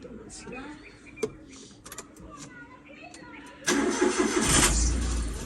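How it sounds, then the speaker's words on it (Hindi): A car engine cranks and catches with the gearbox in neutral, then settles into a loud steady idle close by, after quieter movement and voices. "आज हमारे सूर्य साहब गाड़ी को स्टार्ट रखने वाले हैं।"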